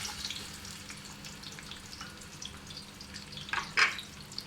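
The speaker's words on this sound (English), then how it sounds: "now that we have the oil quite hot, we're gonna pour in our onions now" Chopped onions frying in hot oil for chicken biryani, a steady soft sizzle with a sharper crackle and stir near the end, close and fairly quiet, no talk.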